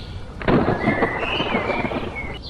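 Cartoon storm with a rolling thunder rumble and a steady hiss of rain, heavy and close for a few seconds.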